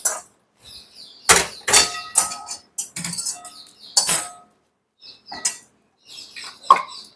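Coriander seeds dry-roasting in a pan, stirred with a utensil that scrapes and clanks against the metal in irregular bursts, close and fairly loud, with quiet gaps between strokes.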